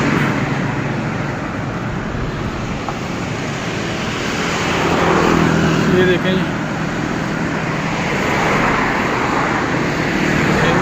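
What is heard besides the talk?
road traffic passing on Jail Road, Lahore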